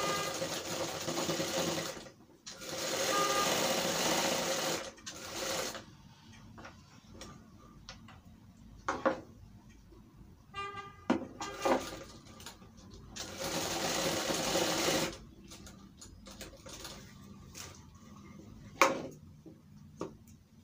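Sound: sewing machine stitching a Nehru coat

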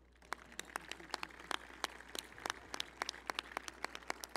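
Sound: audience applause at a solemn session

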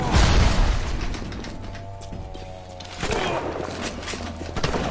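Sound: shotgun fire in the video game Bioshock

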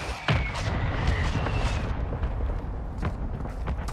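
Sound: mortar strike explosions in a video game

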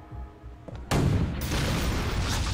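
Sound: rocket launcher explosion in Resident Evil 4 video game

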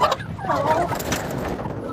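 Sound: adult turkey hen calling in a poultry yard

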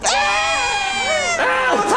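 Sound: people screaming while running away

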